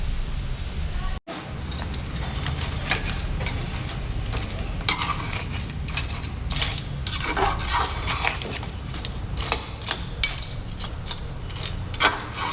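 A crab curry is stirred in a pan, with metal clinks and scrapes of a utensil against cookware sounding in irregular bursts under a steady sizzling background, while a voice talks over it.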